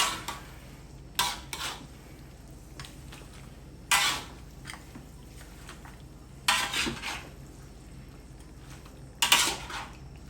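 A utensil scrapes and clanks against a metal pot of old hen chicken and banana stem in occasional bursts, with softer stirring scrapes in between, close by and without talk.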